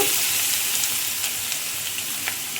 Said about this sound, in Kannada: ಇದನ್ನು ಹಾಗೆ ಸ್ವಲ್ಪ ಹುರ್ಕೊಳ್ಳುವ.